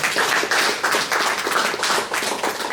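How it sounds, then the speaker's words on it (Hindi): An audience clapping loudly in thanks at a valedictory session, a short burst of dense, close applause with rhythmic swells of clapping. "एक बार जोरदार तालियों से धन्यवाद"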